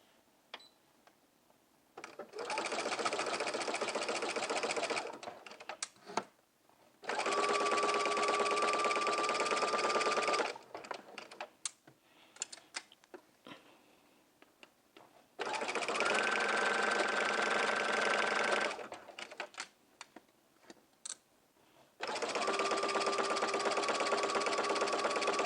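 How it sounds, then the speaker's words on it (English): A sewing machine stitching a jumpsuit's crotch seam runs in four sustained bursts of steady, fast mechanical whirring, separated by quieter pauses. The sound is close and alone, with no talking. "we're going to go to the sewing machine, and we're going to stitch the seam all the way around the crotch curve"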